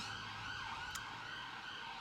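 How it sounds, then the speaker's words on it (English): An ambulance siren passes outside, a steady wailing tone heard faintly and at a distance through a quiet indoor room, with no one speaking. "Very interesting ambulance siren going past here to this subject."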